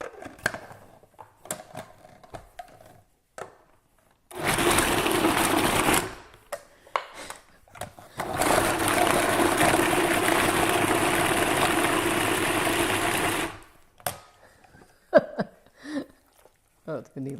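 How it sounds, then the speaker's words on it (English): A food processor pulses chunks of parmesan and asiago cheese into salsa in two loud, steady motor bursts, one about two seconds and one about five seconds, separated and followed by quiet clatter and handling noises. "I'm going to pulse it for about 5 seconds, wipe down the sides, pulse it for about 5 seconds more"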